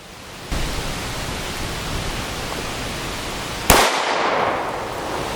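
A 5.7 pistol with a 5.4-inch barrel fires a single SS198 round into Level IIIA body armor: a sharp, loud outdoor crack stands out against steady hiss and wind noise.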